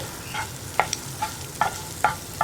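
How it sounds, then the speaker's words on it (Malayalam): Egg pepper fry being stirred in a pan with garlic and fennel in oil, a soft steady sizzle under repeated scraping strokes of a spatula, about five sharp stir sounds spaced roughly half a second apart, close and moderately loud, with no talking. "ഇതുപോലെ ഇളക്കി റെഡിയാക്കി എടുക്കുക."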